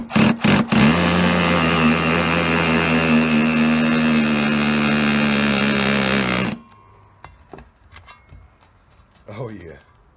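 DeWalt power tool working on a Predator 212 engine reassembly, running loud and steady with a continuous high whine for about six seconds, then cutting off abruptly, followed by quieter clicks and clinks.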